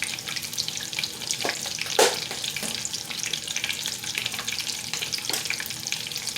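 Chicken legs sauteing in a pan, a continuous close sizzle with crackling spits and a few sharper clatters, no voices.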